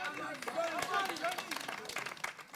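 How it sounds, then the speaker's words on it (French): A crowd at a prize-giving claps for an award-winning team, with scattered, fairly quiet clapping and cheering under voices and excited chatter, rising and falling in short bursts. "On applaudit très fort pour nos amis de Authentique."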